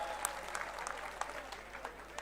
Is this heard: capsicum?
no